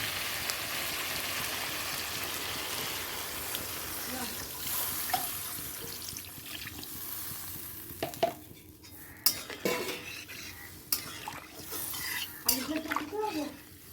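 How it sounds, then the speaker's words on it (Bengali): Water poured into a pan of hilsa fish curry with potato and eggplant, a steady hissing pour at the start that gives way to scattered clinks and stirring sounds of the pan. "এবার জল দিয়ে দেবো"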